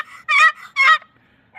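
Two loud, raspy yelps from a turkey box call, closely spaced, with softer squeaky notes between and a faint start of another at the end.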